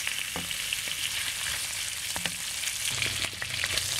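Pork belly fries in a pan with a steady dense sizzle, plus occasional soft stirring knocks close by, and no voices.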